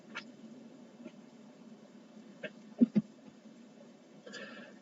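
A noisy, needy house cat gives a few short, faint meows in a quiet indoor room, with two slightly stronger cries close together near the middle.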